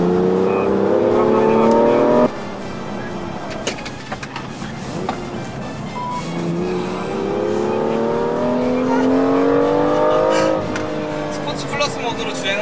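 A BMW M2 in Sport Plus mode accelerates hard around the Inje circuit, its engine note rising in repeated climbing sweeps through the gears, loud and close, while people talk over it in Korean.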